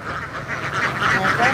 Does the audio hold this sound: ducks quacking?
yes